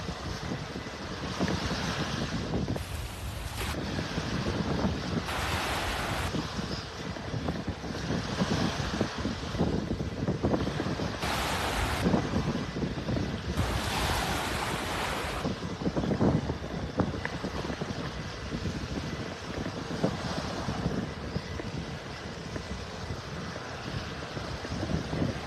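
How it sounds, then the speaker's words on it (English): Steady wind gusting across a beach in North Naples, Florida on a cloudy morning, a loud continuous roar buffeting the microphone with surf washing underneath throughout. "Was not expecting this wind."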